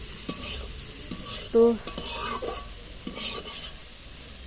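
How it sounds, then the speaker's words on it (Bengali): Prawns fry in a pan with a soft, low sizzle, broken by scraping stirs and light utensil knocks against the pan, and one brief spoken word. "আমার এখন চিংড়িটা ভাজা হচ্ছে"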